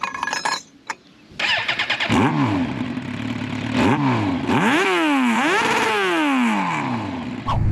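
A newly bought motorcycle with its exhaust baffle fitted, idling and then revved hard several times, each rev rising and falling in a loud, close roar, after a few clattery starts.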